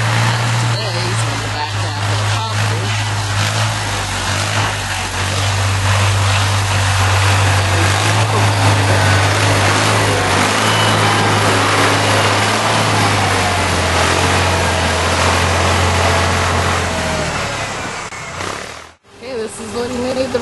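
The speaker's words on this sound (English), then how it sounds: "This is the first time the tractor is coming across." A tractor crossing a creek produces a loud, steady engine rumble and roar close by. It continues for nearly twenty seconds before cutting off briefly, with a voice faintly mixed into the noise.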